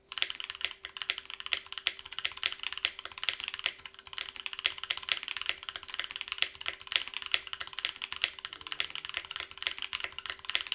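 Rapid, continuous clacking of a mechanical keyboard with milky yellow switches being typed on, crisp and close, with keystrokes tumbling over one another at a steady pace.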